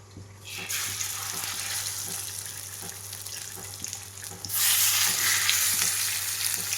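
Fish fries in hot oil in a kadhai, giving a continuous crackling sizzle close by that swells noticeably louder partway through, over a faint low hum.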